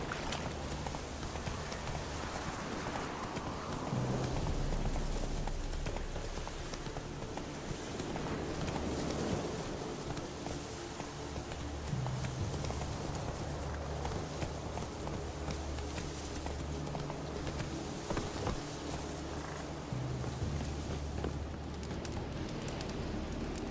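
Roach, a horse in The Witcher 3 video game, gallops with a steady rhythmic clip-clop of hooves over a soft ambient bed with faint rain-like patter, fairly quiet and continuous with no talking.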